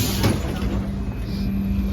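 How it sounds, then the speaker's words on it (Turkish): An old trolleybus in Belgrade hums along with a steady low motor drone and broadband rolling and interior rattle, heard from inside the cabin. "Trolobüse bineceğiz şimdi."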